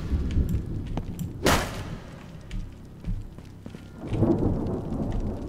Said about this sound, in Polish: I burza nadchodzi coraz bliżej.